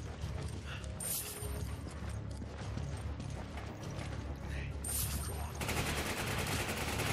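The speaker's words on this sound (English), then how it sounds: "There's a guy blind firing down there." Gunfire in the video game Resident Evil 5, with dense bursts of shots and mechanical clatter that run on steadily under game noise, louder toward the end.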